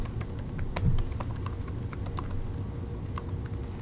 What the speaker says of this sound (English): The white backlit chiclet keys type as good as you possibly want.